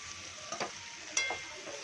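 Okra pieces coated with salt and chili frying in a pan: a soft steady sizzle with a few light stirring scrapes, quiet and close.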